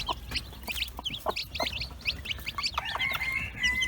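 A broody hen clucks softly among newly accepted chicks whose rapid high peeps chirp over and around her, close and busy, without speech.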